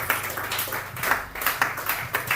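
Audience clapping at a sales seminar welcome, a steady patter of many hands with bursts of louder claps, fairly close and continuous throughout.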